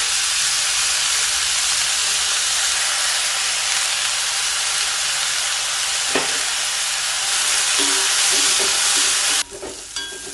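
Onions and curry leaves sauté in a pan for millet adai batter, giving a steady loud sizzle and hiss with occasional stirring clinks near the end.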